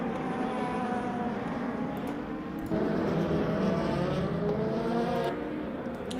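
LMP2 prototype race cars lap Portimao in the racing simulator Le Mans Ultimate. A continuous loud engine roar rises and falls with clear gear-shift breaks, with no voices over it.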